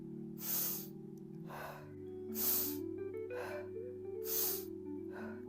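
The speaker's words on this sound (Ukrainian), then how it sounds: "коли ми робимо вдих, ми робимо вдих через ніс, і наш живіт надувається" Three slow, deep breaths drawn in through the nose during voice-training breathing practice, evenly spaced and close, over a soft sustained musical backing.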